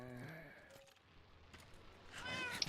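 A cat meows in the Minecraft video game, two or three short tonal calls with harmonics, the last one rising and brighter, heard alone at low volume.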